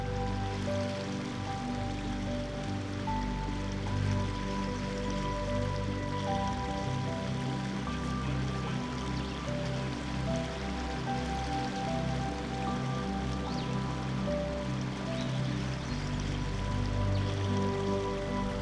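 A continuous rushing wash of flowing river water, steady and fairly close, with no voices over it.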